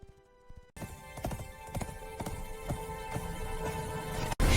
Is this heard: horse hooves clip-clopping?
yes